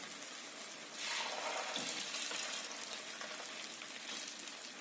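A second batch of atho dough sizzles in hot oil, a soft, steady broadband fizz that swells after the first second and holds at moderate level.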